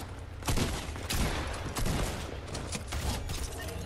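Bursts of rapid gunfire in the Fortnite video game, a dense run of shots that carries on through the whole stretch at steady loudness.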